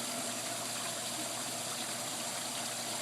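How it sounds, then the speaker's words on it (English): Air bubbles rising from a koi pond bottom drain aerator run by a Meadow 80 pump make a steady, close bubbling and trickling water wash that holds constant throughout, with no voices. "So those are my bubbles going there."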